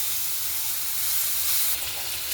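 Green beans hit a hot pan with a steady, loud sizzle and hiss that fills the whole clip without pause, close and continuous with no talking.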